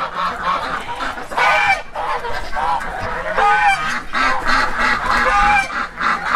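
A flock of ducks honks and quacks repeatedly, several birds calling over each other at close range, loud and busy.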